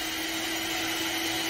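Electric mixer whirring steadily at low-to-medium speed while beating egg whites with vinegar for a coconut cheese butter cake, a constant, fairly loud motor hum with no talking.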